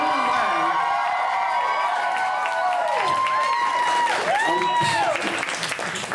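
A concert audience applauds and cheers a band on a Tampa tour stop: dense, loud, sustained clapping mixed with whoops and shouts from a large crowd, with a voice rising over it.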